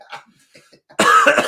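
A man coughs hard, a single loud, harsh burst following a moment of faint, scattered indoor sounds.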